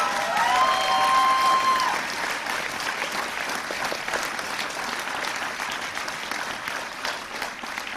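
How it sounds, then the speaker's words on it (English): A political crowd applauds after a candidate's campaign speech, a dense, loud burst of clapping that swells at first and then holds steadily for several seconds, with a few faint voices mixed in. "I'll let you clap."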